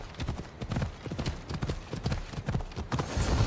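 Horse hooves clip-clop in steady rhythmic beats in Assassin's Creed Odyssey, a moderately loud gait continuing throughout with faint background voices.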